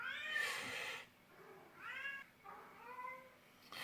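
Domestic cat meowing in a house, three drawn-out, whiny meows at close range, the first longest and loudest, separated by brief quiet gaps.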